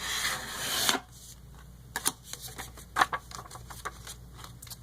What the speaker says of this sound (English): So make sure that's good and creased.